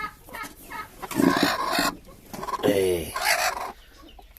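A broody hen settled on her eggs makes close, low clucks and drawn-out grumbling calls in short bursts, with a brief human voice heard once.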